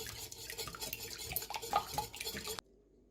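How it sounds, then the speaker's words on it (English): Eggs being whisked into a bowl of flour, salt and sugar for sourdough brioche, a run of close, quick scraping and clinking strokes for about two and a half seconds before it stops abruptly. "Add the 3 eggs and whisk them in."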